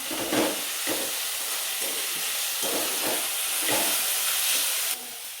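Onion and tomato frying together in a pan, a steady hiss and sizzle throughout with soft periodic stirring scrapes, close and fairly loud.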